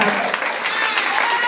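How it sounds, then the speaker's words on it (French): Audience applause at a church appreciation ceremony for a pastor and leaders, a steady wash of clapping throughout with voices mixed in. "Maintenant, nous sommes capables d'applaudir Sœur Elianise Onesite"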